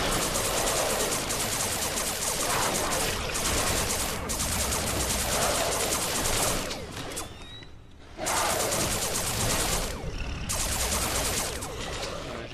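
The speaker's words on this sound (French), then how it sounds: "Le fusil laser a son avantage aussi, c'est qu'il tire super vite" Rapid automatic laser rifle fire in the Alien Breed Impact video game, dense sustained bursts with brief pauses between volleys, loud and continuous.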